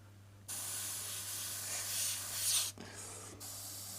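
Steady broadband airbrush spray hissing close up in two bursts onto a mask and window area, with a brief pause between, over a low constant hum.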